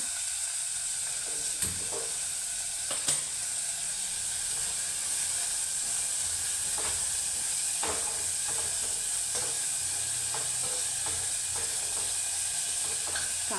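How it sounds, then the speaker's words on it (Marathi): Sliced onion fries in hot tempering oil with curry leaves and asafoetida, giving a steady close sizzle with occasional crackles and stirring clinks as the pan works on. "आता कांदा चांगला आपण तळून घेऊया"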